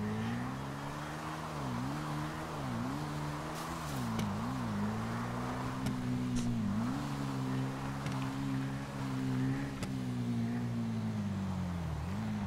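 A car driven in the GTA 5 video game, its engine a steady low drone that rises and dips with throttle changes over several seconds, fairly quiet and without talk.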